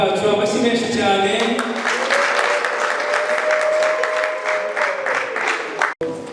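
Wedding guests break into loud, dense applause with cheering, a close crowd clapping steadily under a sustained voice before it cuts off abruptly near the end.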